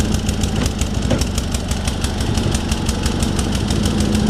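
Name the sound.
Sears SS16 engine running on cold start, choke broken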